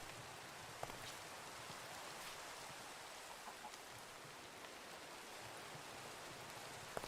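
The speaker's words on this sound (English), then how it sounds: "whilst the rain's passing by" Steady Minecraft rain falls as a soft, even hiss throughout, with a few faint droplet ticks and no talking.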